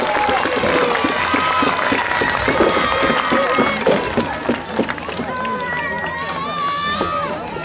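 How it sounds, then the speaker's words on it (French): A crowd applauds the performers at a gladiator combat show in Lillebonne, with dense clapping and cheering under a loud announcer's voice that drops off partway, leaving scattered applause and chatter. "Allez, n'hésitez pas à les applaudir,"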